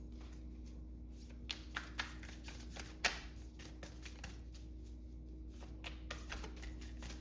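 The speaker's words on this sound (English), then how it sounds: "Let's shuffle with the cards open" A deck of oracle cards being shuffled close by, quiet irregular flicks and soft slaps of card stock over a low steady hum, no speech.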